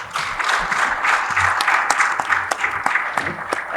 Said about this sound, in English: So may we all please give them a round of applause.